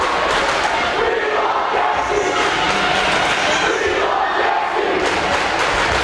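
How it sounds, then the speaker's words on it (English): A volleyball crowd in a high school gymnasium roars and cheers continuously during a timeout, a loud, dense wall of voices and thumps with no pauses. "Just hear the crowd erupt with joy"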